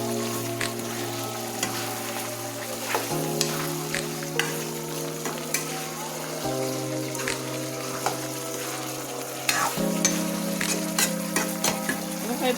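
Meat frying with ground spices in a pan, a continuous close sizzle with a low steady hum beneath and repeated stirring scrapes and clinks of a spatula against the metal, without any speech.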